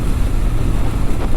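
A Hero Glamour X 125cc motorcycle cruises at 80–85 km/h, with a loud, steady engine drone and wind rush heard from the rider's position without pause.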